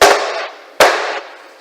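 A baking pan of cornbread batter is tapped down on a counter to even it out, giving two loud, sharp knocks about a second apart, each trailing off with a short metallic ring.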